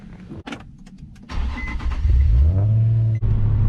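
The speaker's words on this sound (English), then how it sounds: "this car actually drives and sounds really good." An Infiniti G35S starts up and drives off on a sunny day, its engine rumble swelling from a low idle into a steady, close revving drone.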